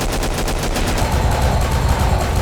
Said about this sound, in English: These guns are loud, they have lots of bass, and they recoil in the same sort of way of Killing Floor 1.